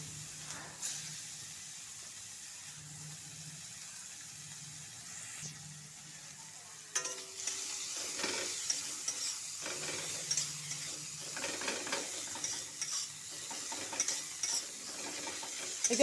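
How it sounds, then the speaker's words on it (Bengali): Chopped onion drops into hot oil already used for frying, and a soft sizzle swells up midway, joined by intermittent spatula scrapes and clatters against the pan, all fairly quiet. "এখন একই তেলে দিয়ে দিচ্ছি আমি পেঁয়াজ কুচি"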